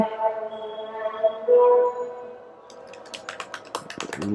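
Keys on a computer keyboard clatter in a quick run of light clicks near the end, after a short stretch of voice-like sound.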